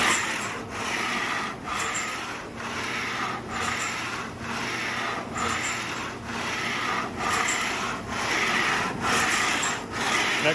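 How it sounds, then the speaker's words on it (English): A Mattison 303 stroke sander's skate travels back and forth, giving a steady machine rumble with a regular rasping, rubbing pulse about every second, loud and close, with no voices. "that's going to activate the skate on this machine"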